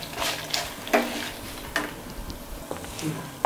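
Spice tempering with coriander seeds and fenugreek sizzles softly in a pan for mint chutney, a faint steady crackle with a few sharp pops and clicks.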